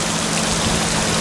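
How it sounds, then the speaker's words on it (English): Heavy rain pours steadily onto a garden shed and overflowing gutters, a dense, loud, unbroken hiss with no talk. "I don't think I've seen rain like this for ages."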